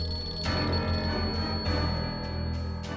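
A telephone bell rings loudly and continuously over a steady background hum, with repeated ring bursts across the few seconds and no speech.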